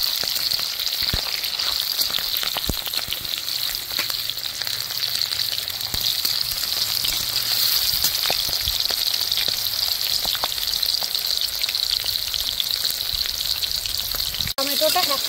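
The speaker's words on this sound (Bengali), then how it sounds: "ছোট ক্যাপসিকাম আর অর্ধেক টমেটো হালকা করে ভেজে নেব" Capsicum and half a tomato frying in oil with whole garam masala and a dried chilli, giving a continuous bright hiss with occasional crackles and stirring knocks, steady throughout.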